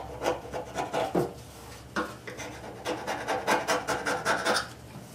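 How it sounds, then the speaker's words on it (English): Old paint is scraped off the tailgate of a Ford F100 in a rapid series of rough, rasping strokes, close up and fairly quiet, with no voices. "Sounds like you're damaging stuff, but you're not. That's just the paint. That's just the paint popping off."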